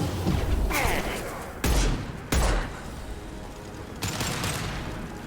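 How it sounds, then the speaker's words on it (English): Concussive shot ability firing in the Mass Effect 2 video game: several loud, heavy blasts spaced a second or so apart, each with a booming impact and ringing tail amid ongoing combat noise. "Firing concussive shot."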